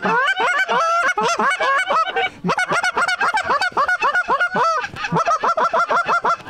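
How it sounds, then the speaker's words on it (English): A large flock of wild geese honks loudly and continuously near a youth waterfowl hunt, dense overlapping calls close by and filling the whole stretch with barely a pause. "There's birds behind us."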